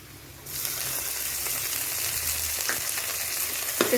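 Tomatoes hit a pan of golden-brown fried onions, setting off a sudden loud, steady sizzle that holds alone, with a couple of soft stirring clicks near the end.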